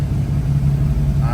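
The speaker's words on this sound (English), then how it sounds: "Idling good. It's been running for about like 20-ish minutes." A car engine idles steadily with a low, even hum and rumble, close by and unchanging for the whole moment.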